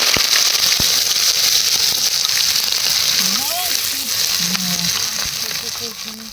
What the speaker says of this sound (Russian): Закладываем в казанок чеснок и лук.